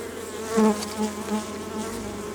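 Honey bees hum in a dense, continuous drone inside a hive where new comb is being built, with a few louder individual buzzes passing close by.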